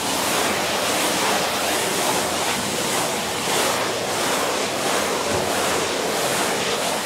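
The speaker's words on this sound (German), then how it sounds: "Wichtig ist, dass man mit dem Brett die ganze Zeit auf der Wand bleibt und nicht so reibt." A float board rubs clay plaster across a wall in a steady, continuous scraping hiss with a faint back-and-forth pulse. The sound is loud and close, with no talking.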